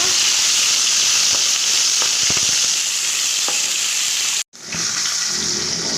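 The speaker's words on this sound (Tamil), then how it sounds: "இப்போ நல்லா நம்ம வதக்கலாங்க" Loud, steady sizzling of shallots frying in a hot pan for mor kuzhambu, with occasional light scrapes from stirring and a brief dropout near the end.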